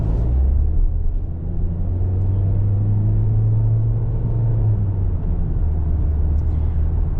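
A 2024 Toyota Corolla LE pulling away, a low steady engine hum and road rumble heard from inside, a constant tone rising slightly then settling, no talking.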